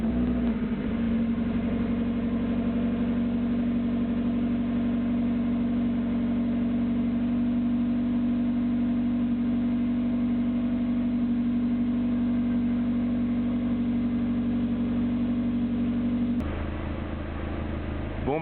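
Mazda MX5 fitted with a new Cobalt exhaust idling at a steady, even rumble, loud and close throughout, with a brief shift in tone near the end.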